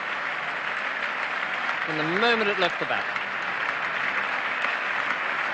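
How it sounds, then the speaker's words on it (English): Cricket spectators at a 1976 England versus West Indies Test match applauding a boundary, a steady wash of distant crowd clapping under a commentator's voice. "And well-merited applause from the spectators and the English players."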